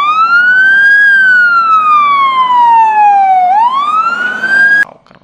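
A toy fire truck siren sweeps in a loud, close electronic wail, falling slowly, then rising again before cutting off abruptly.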